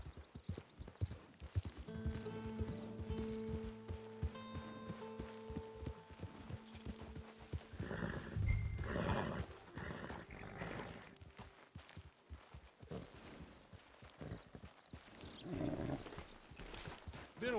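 A horse's hooves clip-clop at a slow walk in the video game Red Dead Redemption Online, faint rhythmic steps over a quiet musical drone and ambient game noise.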